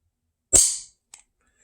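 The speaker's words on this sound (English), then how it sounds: "Nice, crisp trigger pull." Dry-fire trigger pull on an unloaded 1911 pistol, one crisp, sharp snap up close, then a faint second tick a moment later, otherwise silent.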